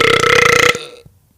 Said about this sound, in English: How many times I gotta tell you not to burp in the fucking mic?